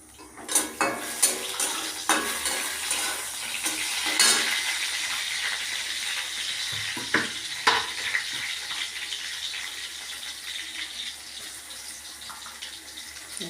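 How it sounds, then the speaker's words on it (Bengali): Cumin seeds crackle and sizzle in hot oil in a pan, with steady frying hiss, sharp metallic clinks of a utensil against the pan, and stirring scrapes, close up with no talking. "একটু তেল, একটু জিরে ফোড়ন দেবো"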